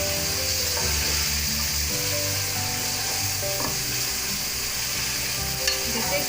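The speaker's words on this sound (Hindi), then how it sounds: "अच्छी तरह फ्राई करेंगे।" Chicken karela frying in a pan, with a steady, loud sizzle and crackle throughout and occasional stirring scrapes and clinks, no voices.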